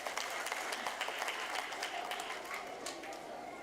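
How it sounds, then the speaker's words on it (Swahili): Audience applause at a polio vaccination campaign launch event, a crowd clapping steadily for several seconds, moderately faint and evenly sustained, tapering slightly toward the end. "Tupigie makofi tafadhali"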